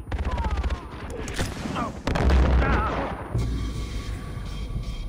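Gunfire in the video game Far Cry 4, with loud bursts of shots and booms going off in quick succession and staying dense throughout, under a faint voice.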